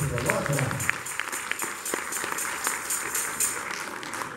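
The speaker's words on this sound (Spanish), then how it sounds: "Denle un aplauso al Señor." A church congregation claps and cheers in praise during a sermon, busy rhythmic clapping mixed with crowd voices and shouts.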